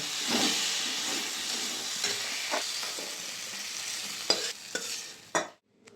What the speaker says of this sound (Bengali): সিমগুলো ভালো করে ভেজে নেব।